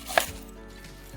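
A knife strikes sharply once on a cutting board while onions are being cut, followed by a faint, quiet tail.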